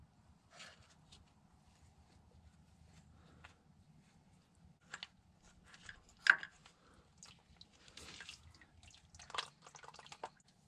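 Fluid drains and drips from the bottom of a part on an old Massey Ferguson backhoe, with scattered faint drips and small splashes over a low rumbling background, quiet and close, with no talk.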